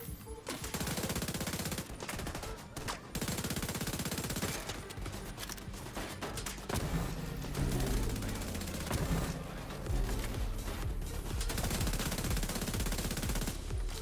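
Turret gunfire in The Division 2 pours out as sustained rapid automatic bursts, loud and dense nearly throughout, with short gaps and a few deeper sweeping game sounds mixed in.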